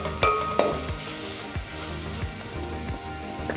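Grated carrot stirred in a hot pan while frying vegetables, a steady close sizzle with repeated scraping strokes of a spoon, no voices.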